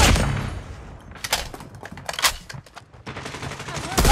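Bursts of automatic gunfire from Call of Duty Mobile, several sharp volleys spread across a few seconds with brief gaps between them, mixed with in-game voice callouts.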